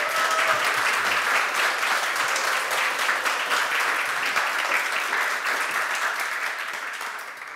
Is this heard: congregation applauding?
yes